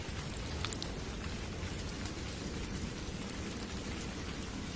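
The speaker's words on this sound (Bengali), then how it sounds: "ঝমঝম করে মুষলধারে বৃষ্টি।" Heavy, steady downpour in an animated village ghost story, a dense continuous roar of rain with no voices, even in loudness throughout.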